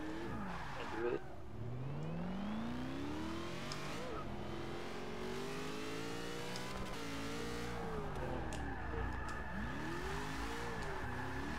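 A 2013 Ford Mustang GT500 in Forza Motorsport 6 revs and accelerates hard, its engine pitch climbing and dropping through gear changes with brief tire squeal, while people talk over it.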